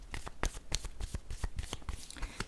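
Tarot cards being shuffled and drawn by hand, a quick run of crisp riffling snaps and slides close to the ear, soft and unhurried with no talk.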